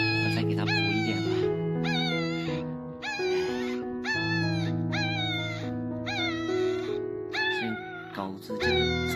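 A newborn puppy on a farm whines over and over, about eight high, wavering cries in quick succession, each rising then falling, close and fairly loud.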